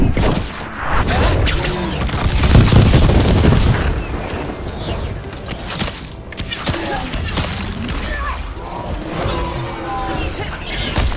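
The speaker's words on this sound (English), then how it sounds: "We're under fire. They're hitting us from afar." Booming explosions and bursts of gunfire from a Dragon Age: The Veilguard battle, loud and continuous, with heavy low rumbling blasts around the middle and scattered impacts under occasional voices.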